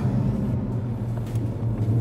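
An Audi R8 V10 5.2 FSI supercar drives along, giving off a continuous, fairly loud low engine rumble with an even drone and no talking.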